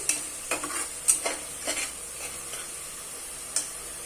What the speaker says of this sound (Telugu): ఇప్పుడు ఈ అల్లం వెల్లుల్లి పేస్ట్ మొత్తం పచ్చివాసన పోయేంత వరకు మనము ఫ్రై చేసుకున్నాము